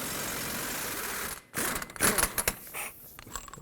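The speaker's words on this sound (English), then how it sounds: "Now let's take the axle nut off. 30mm 12-point socket for this." Axle nut on the rear of a 2001-2007 Toyota Highlander loosened with a 30mm 12-point socket, a steady mechanical whirr, then a pause and a few sharp clattering bursts, close and loud.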